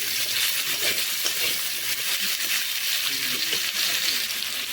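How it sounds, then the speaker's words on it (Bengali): Potatoes frying in hot oil in a pan, a dense, even sizzle with faint stirring clatter underneath, steady and close throughout. "এখানে আমি আলুগুলো ছেড়ে দিলাম।"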